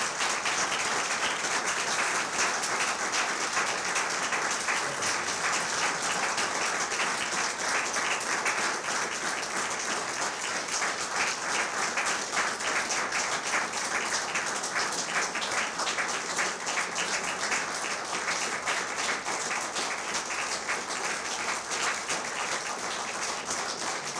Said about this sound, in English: Ladies and gentlemen, let's give a Fighting Saints round of applause to Coach Mike Van Diest.